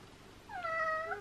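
Pet cat Gus gives a single drawn-out meow, close and clear, rising and then falling over a quiet room background.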